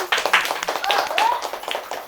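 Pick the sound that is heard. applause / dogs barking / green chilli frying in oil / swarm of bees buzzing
applause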